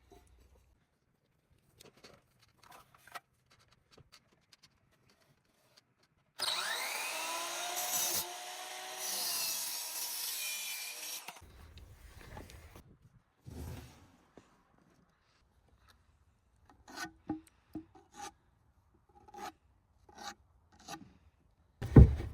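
Hand sanding of a primed timber corbel: a steady scraping rasp of abrasive on wood lasting about five seconds, followed by softer intermittent rubbing strokes and scattered taps.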